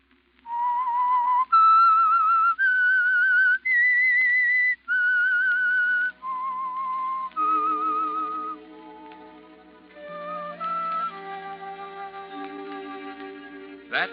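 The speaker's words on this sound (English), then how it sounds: "That whistle is your signal for the Signal Oil program" A clear melodic whistle carries the theme tune of the 1945 radio program The Whistler, sustained notes rising and falling, followed by soft orchestral accompaniment swelling underneath.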